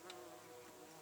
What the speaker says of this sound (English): look at the bee. Bees love this. They definitely smell the honey